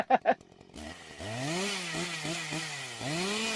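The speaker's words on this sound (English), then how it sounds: "Missy, hit them chainsaws." Snarling chainsaw revs in pitch-bending surges, loud and close, following two short percussive hits, used as a sound effect.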